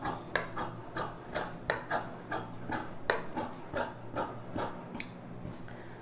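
Scissors snipping through chudidhar lining fabric, a steady series of crisp, close cuts repeating roughly every half second under a faint background hum.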